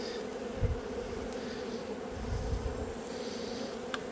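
Honey bees swarm around a hive frame while honey is being taken. Their steady, dense buzz hums close and continuous throughout, with faint knocks underneath and no voices.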